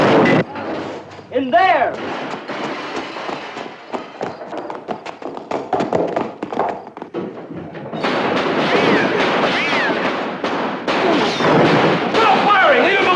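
Rapid gunfire crackles in a black-and-white sci-fi film scene, bursts of shots ringing out in the mid-distance over urgent, shouted dialogue and a loud, continuous mix of noise that thickens in the second half.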